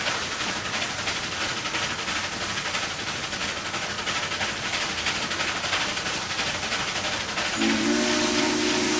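A train passes, making a loud, continuous rumbling roar that holds steady throughout, with a sustained whistle tone sounding near the end.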